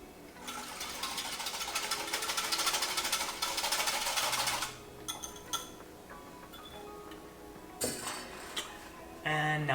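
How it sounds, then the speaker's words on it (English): Milk, sugar and yeast mixture whisked briskly in a bowl for a bread recipe, a dense continuous metallic rattling and clinking for about five seconds, then scattered lighter taps and clinks, ending in another short burst of fast whisking. "And whisk it all up."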